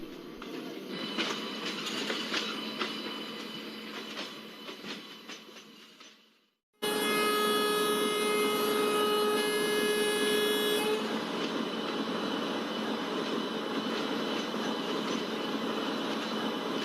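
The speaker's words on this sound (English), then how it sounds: "we are slowly overtaking container freight which is standing next to our" Express train rolling steadily past a standing container freight train, a loud continuous rumble with a long high whine and squeal after a brief dropout, heard close from on board.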